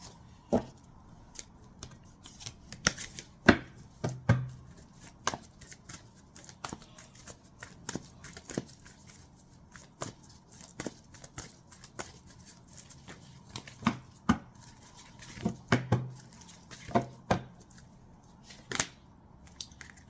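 Tarot cards handled and put away, a scattered run of short crisp clicks, slaps and shuffles at close range, irregular and sparse with quiet gaps between.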